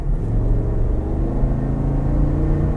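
A deep, rumbling large-displacement engine drone from a Chevrolet Tahoe SUV holds steady with a low throaty exhaust tone, as if heard from inside the moving vehicle.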